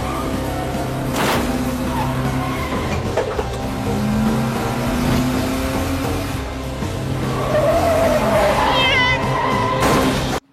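Hijacked car tearing through a movie chase scene, engine roar and road noise running steadily throughout, with a tire squeal rising near the end and a busy soundtrack layered underneath.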